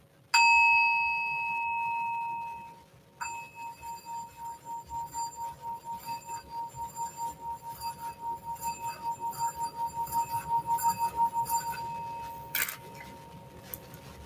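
A singing bowl is struck once, then rubbed into a long, pure ringing chime that swells and pulses steadily at close range, ending with a light clink, with no talking.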